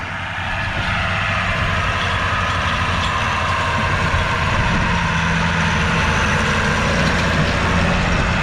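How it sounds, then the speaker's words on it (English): An Allis-Chalmers 7020 tractor pulls a Vermeer R23 twin hay rake, its steady heavy diesel drone running unbroken and fairly loud throughout, with no voices. "They got a different tractor on the rake."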